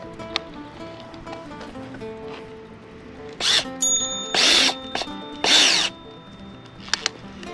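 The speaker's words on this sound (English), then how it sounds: "then you turn your drill on to twist it around" A cordless drill turning a weed-removal spinner attachment whirs in three short high-pitched bursts, close by, with quiet clicks and background hum between them.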